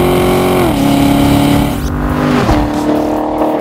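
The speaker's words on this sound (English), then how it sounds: "460 horsepower of American made V8 engine gets this car from 0 to 60" A Corvette C7 Stingray Z51 with a 460-horsepower American V8 accelerates hard, its loud, close engine note climbing through gear changes with sharp drops in pitch between shifts.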